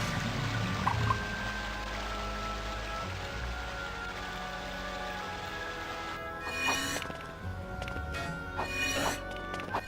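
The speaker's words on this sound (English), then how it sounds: "then water will pull down on the fire below" Water pouring down onto a fire in the LEGO Batman video game, a steady rushing splash and trickle with rain-like patter, followed by sharper game effect bursts near the end.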